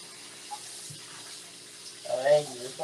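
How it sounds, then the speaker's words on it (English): Water from a kitchen tap running into a sink, a soft steady hiss under a faint hum, with a person speaking briefly near the end. "while the water is running and cold"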